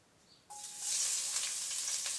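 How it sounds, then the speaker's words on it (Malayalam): Sliced onions dropped into hot oil for chicken biryani, after cashews and raisins were fried in it, burst into a loud steady sizzle that swells and holds, close and alone with no talk. "അതിലേക്ക് നമുക്ക് കുറച്ച് സവോള നമുക്ക് വറുത്തെടുക്കാം"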